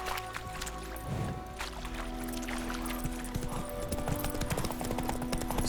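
Horse hooves clip-clop in a steady galloping rhythm in the video game The Witcher 3, loud and close, running alongside layered game music throughout.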